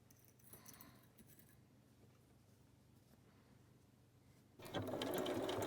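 A domestic sewing machine stitching jacket fabric close to the edge, a faint steady hum with brief rattles early on, then a louder burst of rapid stitching at the end.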